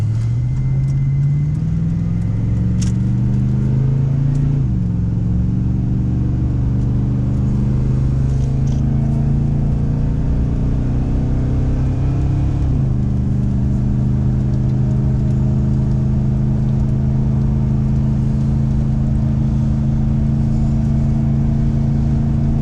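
A 2004 Chevrolet 2500HD truck with the 6.0 gas engine and 195,000 miles drones loudly while climbing a mountain grade towing a small trailer, revs rising and dropping at gear shifts before settling into a steady, strained hum.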